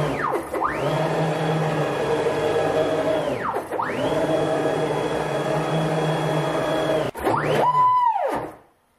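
Stepper-motor-driven machine axis moving at 10 meters per minute, a steady whining motor tone with harmonics that ramps up, runs, ramps down and repeats, ending in a rising then falling sweep, close and loud with no talk.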